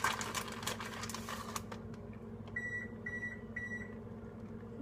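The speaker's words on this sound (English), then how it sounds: "And that is my oven being ready" A kitchen oven signals it is ready with three short, evenly spaced electronic beeps, clear and moderately loud over a low hum, following a stretch of rustling and clatter.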